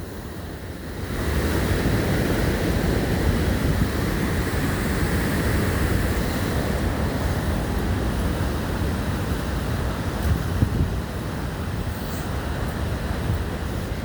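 A steady, heavy roar of falling water at the American Falls, Niagara Falls, seen from Goat Island, loud and continuous, with wind buffeting the microphone.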